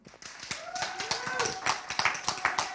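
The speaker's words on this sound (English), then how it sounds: "Big round of applause for Toby Mills." A small, sparse audience of lingering stragglers claps for Toby Mills, individual hand claps sounding in an uneven rhythm, with voices talking over them.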